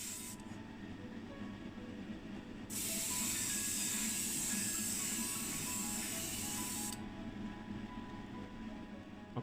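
Aerosol spray paint hisses steadily for several seconds while a coat goes onto a Matchbox 1989 BMW 5 Series model car, close by, starting and stopping against a low background hum.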